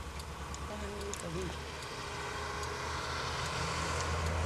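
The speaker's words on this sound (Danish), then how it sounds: "Nu kommer det jo en lastbil." A truck passing on a road near a motorway makes a low, rumbling roar that builds gradually toward the end, against steady background road noise, with faint voices underneath.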